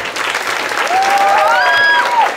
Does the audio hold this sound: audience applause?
yes